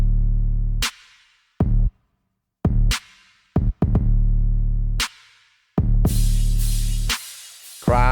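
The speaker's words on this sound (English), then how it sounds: "You get a drum pattern that sounds like this with all of the elements added." A trap beat of booming 808 bass hits and sharp snare cracks, with hissy hi-hats joining later and short silent gaps between the hits.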